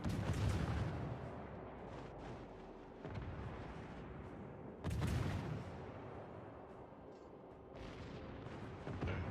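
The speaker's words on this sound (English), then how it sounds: "all of them ricochet off the broadside of a Shikishima" Naval guns fire in the World of Warships video game, two heavy booming salvos a few seconds apart with rumbling tails, shells ricocheting off a Shikishima battleship's broadside, set against constant low game ambience.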